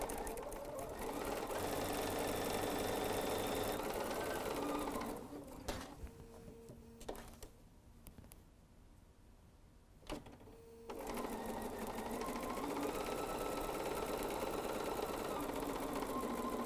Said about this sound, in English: So let's go stitch those again. And again, chain stitch them all.